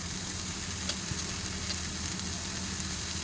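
Tomatoes softening in a hot pan give a soft, steady sizzle that carries on without a break, fairly faint and with no talk over it.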